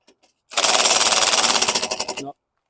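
A 2006 Troy-Bilt self-propelled lawn mower's Briggs & Stratton 6.75 engine fires on a recoil pull, giving a loud, rapid chugging burst for under two seconds that sputters and dies.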